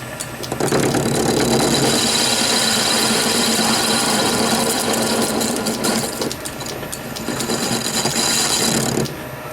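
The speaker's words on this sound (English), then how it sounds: "we need to face this off, and we need to put a centre drill in it, just a little one" A metal lathe facing off and centre drilling a part for a Prince dynamo motor, a steady loud mechanical whirr and rattle running almost continuously, easing slightly midway and stopping near the end.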